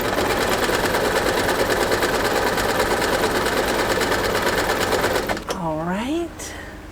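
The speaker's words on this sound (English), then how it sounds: "we're going to go ahead and sew it together just like we did the other ones, making a long line of assembly lined blocks" A sewing machine stitches quilt blocks together for a baby quilt top in a steady, fast, close mechanical whir that runs for about five seconds, then stops as a voice begins speaking.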